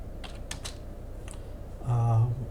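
Typing on a computer keyboard, a few quick close key clicks followed by a short low hum or creak near the end.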